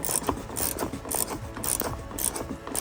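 Rapid, steady ratcheting clicks as a wiper arm nut is tightened onto the spline shaft of a Corsa D wiper mechanism, close up and continuous with no talking.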